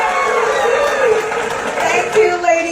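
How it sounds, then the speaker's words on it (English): An audience cheers and whoops for the five finalists of the Miss Talisay 2025 pageant, a steady, dense roar of crowd voices with shrill shouts rising near the end. "Let's give them a round of applause."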